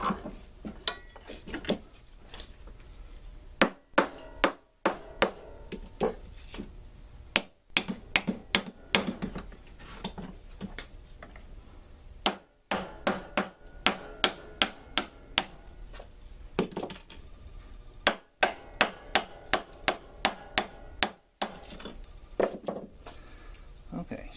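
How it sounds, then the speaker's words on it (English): Nails driven with a hammer into a wooden handle for a homemade cleaver chopper, heard as sharp, close, irregular strikes in quick clusters, separated by short pauses. "Don't nail it to the table."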